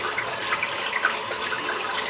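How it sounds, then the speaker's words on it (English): A lathered shaving brush being shaken out, producing a close, continuous wet splashing and spattering of water that stays fairly loud and even throughout. "Once you get rid of all that lather, you shake the water out"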